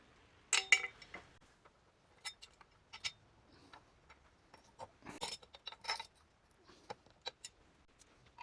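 Screws and a washer for mounting wall brackets in a small workshop are handled, producing sparse, faint metallic clicks and clinks in irregular bursts against a quiet background.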